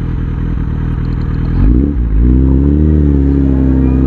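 A Suzuki Bandit 650 motorcycle engine during a slow U-turn, loud and close, idling with a mechanical clatter before the revs rise into a steady, rising drone.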